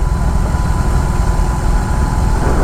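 A BMW R18 motorcycle engine runs at idle close by, a loud, low, steady rumble with a slight pulsing throb and no talking.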